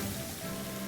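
Cartoonish pan sizzling from a cooking scene in the game Fire Emblem: Three Houses, a steady, close frying hiss lasting about a second with no voices.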